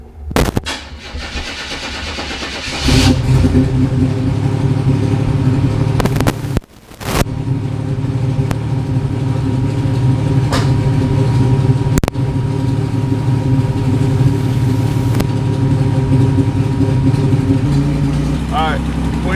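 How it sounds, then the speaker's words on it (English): A turbocharged Buick cold-starting in December: a brief crank catches into a loud, close engine roar that settles into a steady, rumbling idle with a short dip partway, alone without talk. "you gotta be quiet during the cold start"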